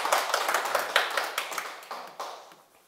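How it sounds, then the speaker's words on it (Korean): A small audience at a Sunday spirituality lecture claps in a short, sparse burst of distinct hand claps that thin out and decay over a few seconds. "큰 박수 부탁드립니다."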